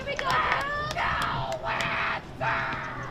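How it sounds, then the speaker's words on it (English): A home crowd yells and cheers at a girls' varsity high school soccer match between Norton and Dover-Sherborn, with repeated surging shouts and screams rising and falling in bursts, loud and close, over steady background crowd noise. "Crowd cheering on the hometown team."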